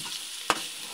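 Bitter gourd with egg sizzles in a pan as it is sautéed, a soft continuous hiss broken by two brisk scraping strokes of a spatula.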